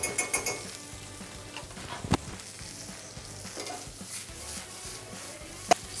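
Butter sizzling and frying in a hot pan while cooking beef tagliata, a steady close crackle with occasional sharp clinks of utensils against the pan and no voices.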